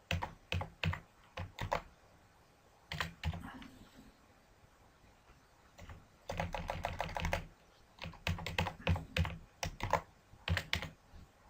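Fingers typing on a computer keyboard in bursts of quick, crisp key clicks separated by short pauses, close and fairly quiet with no talking.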